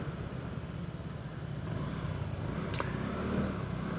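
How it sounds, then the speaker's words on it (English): Big city road traffic between Hsinchu and Qionglin hums steadily at a distance, a faint, continuous wash of passing vehicles with a brief higher tone near the end and no one speaking. "Big city traffic, shall we?"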